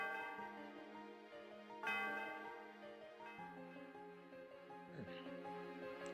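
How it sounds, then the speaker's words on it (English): Bells ring at the Celestial Tower in a Pokémon video game, with several resonant, sustained tones struck in succession and left to reverberate, fairly faint overall. "The sound of the bell reverberates through the air."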